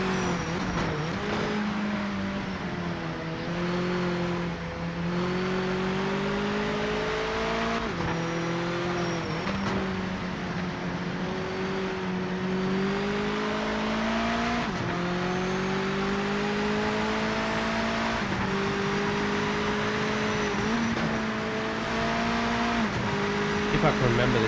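A Mazda race car in the Project Motor Racing video game holds a steady, loud engine drone that rises and falls through gear changes and corners for the whole stretch, with someone talking over it throughout.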